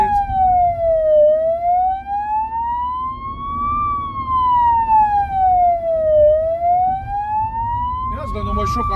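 A blood transport ambulance siren wails continuously in slow rising and falling sweeps, loud and close, over road noise, with a brief burst of extra clatter at the very end.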